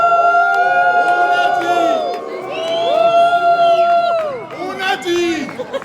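A live improv-theatre audience cheers, whoops and shouts loudly and continuously, with a few sustained yells and bursts of clapping in a dense crowd roar, swelling and dipping over several seconds as they vote by noise for a driver.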